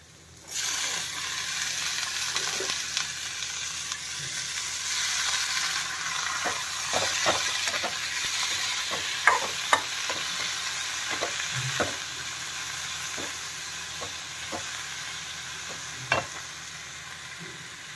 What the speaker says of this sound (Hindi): टमाटर गलेगा तब तक भूनते हैं इसको अच्छे से